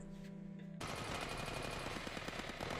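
Gunfire from a zombie drama episode: after a quiet opening, a dense burst of rapid automatic shots erupts and keeps going, loud and sustained with crackling reports.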